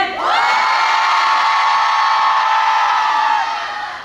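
A live audience at an autumn radio concert cheers and shouts for a K-pop group: a loud, steady roar of whooping voices that swells at once, holds for about three seconds, then tapers off.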